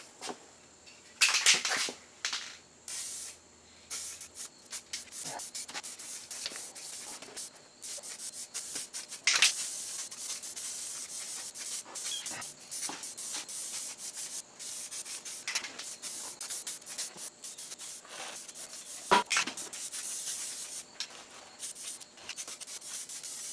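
A final thick white coat is sprayed onto plastics from a Hawk 250 dirt bike, heard as close, irregular bursts of hissing spray with short pauses between passes, and no talking.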